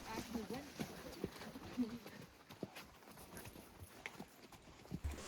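Mule hooves clip-clop along a Montana mountain trail in an uneven walking rhythm, close and moderate in loudness, with scattered voices talking over the steps.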